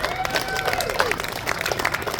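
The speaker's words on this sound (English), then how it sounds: "Let's give him a round of applause" A political rally crowd in Louisa County, Virginia applauds a retired state trooper, producing a steady, dense wash of clapping and crowd noise that holds at an even level for the whole stretch.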